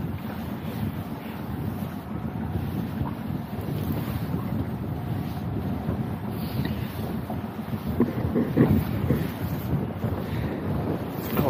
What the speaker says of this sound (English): that wind is definitely picking up